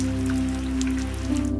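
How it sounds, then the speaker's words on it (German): Light rain pattering steadily on a sailing yacht moored in a marina on the Baltic coast, a continuous soft patter under a low, steady hum. "Hier in der sicheren Marina hat das leichte Prasseln des Regens sogar etwas Beruhigendes."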